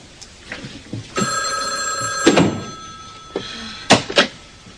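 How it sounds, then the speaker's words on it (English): An office telephone rings in a dramatic TV scene, a bright electronic trill lasting about a second, with thumps and handling knocks around it, close and fairly loud. "Mr. Flint, there's a call for you on line 1"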